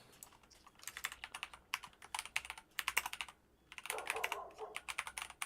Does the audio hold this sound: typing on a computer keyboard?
yes